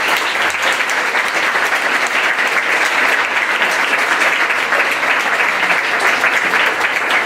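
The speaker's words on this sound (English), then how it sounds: "If you give a quick round of applause to our crew." An audience at a school show applauds its crew, steady dense clapping from a crowd that stays loud and even from start to finish, with no speech.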